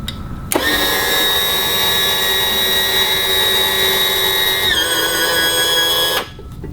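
A boat outboard motor's electric power trim raises the motor, a loud, steady close whine that shifts pitch briefly near the end before cutting off.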